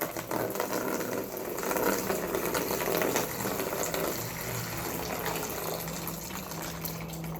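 Sterile solution pours from a bottle onto a sterile field, a steady close gushing splash of liquid that runs continuously for several seconds, with no talk over it.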